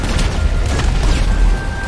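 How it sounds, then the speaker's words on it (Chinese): Explosions in the video game The Gate Monster, heard as a steady, heavy low rumble with dense booming under scattered crackle, continuous and loud across the short span. "爆炸爆炸爆炸爆炸，各种爆炸"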